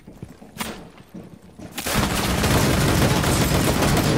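Gunfire in the video game Rainbow Six Siege: a few scattered shots at first, then a dense, loud burst of sustained rapid fire that fills the rest of the moment.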